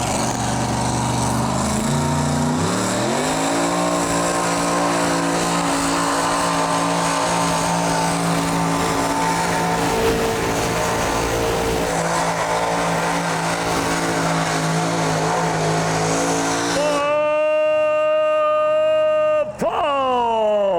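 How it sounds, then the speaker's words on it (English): A modified pulling tractor's powerful engine roars and climbs in pitch at a truck and tractor pulling competition, holding a heavy, sustained drone before cutting to a higher whine near the end. "This is our open modified tractor division"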